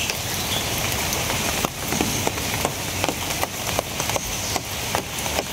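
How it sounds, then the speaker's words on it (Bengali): Rain begins falling in a rural setting, a loud dense hiss punctuated by a run of sharp drop-like taps on a nearby surface. "বৃষ্টি শুরু হয়ে গেছে"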